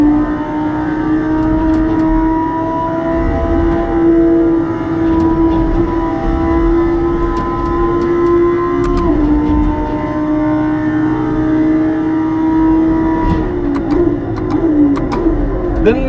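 Racing car engine in a large-screen driving simulator game, a steady loud drone with a constant low tone throughout, with slight revving changes and faint clicks near the end.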